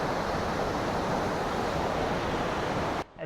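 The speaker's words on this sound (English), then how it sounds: "So much water hitting that rock." Waterfall water pouring steadily onto a rock beside a hiking trail at Silver Creek, a loud, continuous broadband roar close by that holds for about three seconds before dropping away abruptly.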